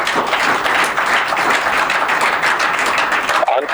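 A church congregation claps together in steady, loud applause that fills the whole stretch and thins slightly near the end.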